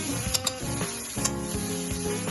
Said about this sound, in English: you can hear the sizzle, so you know it's hot enough